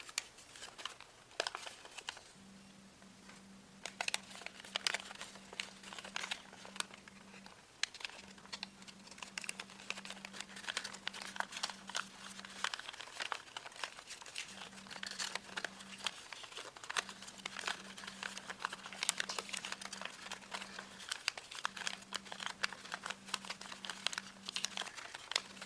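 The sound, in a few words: origami paper being folded and creased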